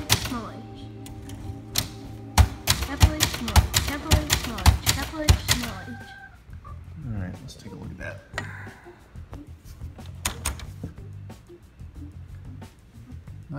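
Keys striking a 1966 Montgomery Ward Signature 300 manual typewriter for an alignment test, a dense burst of sharp clacks about halfway through, then lighter scattered taps and mechanical noises, with faint background voice sounds.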